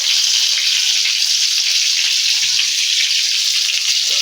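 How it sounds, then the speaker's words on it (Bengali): Bitter gourd frying in hot oil in a kadai, a steady loud hiss and sizzle that stays constant and close throughout with no pauses. "এখানে দুটো আমি উচ্ছে আমি দিলাম। এইভাবে ভাজবো।"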